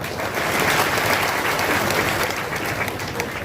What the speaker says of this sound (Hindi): हाँ सब जी के नाम पर ताली बजा दो